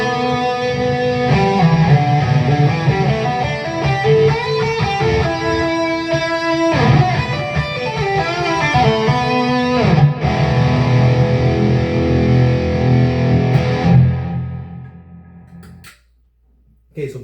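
Heavily distorted electric guitar through a Peavey Vypyr X2 amp on its full distortion setting, a dense loud riff of chugging chords and lead notes close up, fading out near the end before a short final hit.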